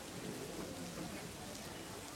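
A faint, even wash of steady rainfall in an audio drama, soft and unbroken over a couple of seconds with no distinct drops standing out.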